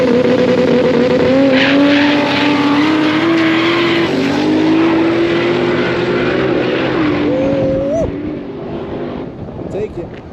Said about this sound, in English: He's got the Z28 Camaro.